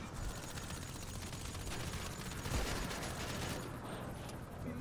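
Gunfire from shooting zombies during a GTA roleplay zombie invasion, bursts of rapid shots over a busy background, fairly faint overall.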